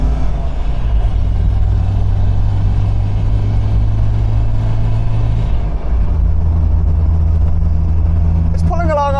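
An MGB's engine runs with the throttle pressed flat to the floor, a steady loud mid-pitched drone that holds for several seconds and then drops in tone. A voice speaks over it and a brief high chirp comes at the end.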